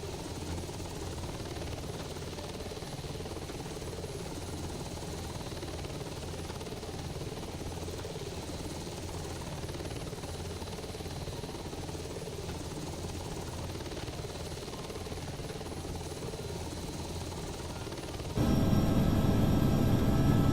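A helicopter rotor and engine drone steadily and loudly, close up, then sets down at the end of a landing in a flight simulator game, where the sound shifts to a heavier, rumbling tone.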